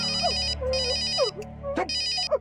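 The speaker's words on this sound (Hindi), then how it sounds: "अरे सही मौके पे फोन आया जी आपका," A synthetic phone ringtone plays in repeated bursts, a bright electronic melody pattern cycling loudly with brief gaps between phrases.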